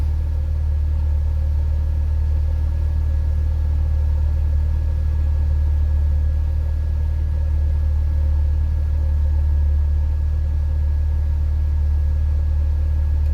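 A turbocharged Ford Cortina Mk3 idles with its 14-inch shrouded electric radiator fan running, a loud, steady low engine rumble and even fan whir throughout with no talk.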